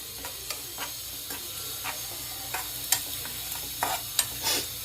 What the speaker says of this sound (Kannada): ಸೊ ಈಗ ನಾನು ಇದಕ್ಕೆ ಅಲ್ಲ ಬೆಳ್ಳುಳ್ಳಿ ಪೇಸ್ಟ್ ಹಾಕ್ತಾ ಇದ್ದೀನಿ